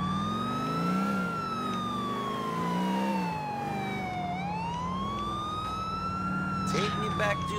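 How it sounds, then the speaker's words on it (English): A police car siren in the video game GTA IV wails steadily, its pitch sweeping slowly down and then back up, loud and close, with engine rumble and a few clatters beneath. "That's the sound of the police."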